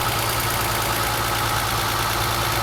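A Mercedes R107 280SL, its fuel distributor just repaired, idles steadily during a post-repair engine test, a continuous close mechanical hum and rumble with no talk over it.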